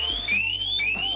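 A smart bike lock alarm shrieks with a loud, close, piercing tone that sweeps rapidly and repeatedly, sounding alone with no speech.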